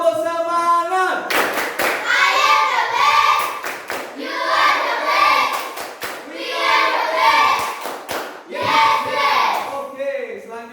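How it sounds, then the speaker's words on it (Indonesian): A class of students performs a rhythmic spirit clap in a school classroom, with bursts of patterned clapping mixed with group chanting, repeated four times with short pauses between. "Tepuk semangat."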